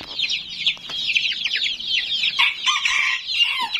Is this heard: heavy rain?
no